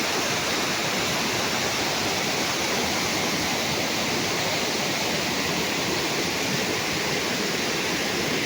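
A waterfall and flowing stream swollen by monsoon rain in Malvan, Sindhudurg, in the Konkan, roar as a loud, dense, unbroken rush of water with no voices over it.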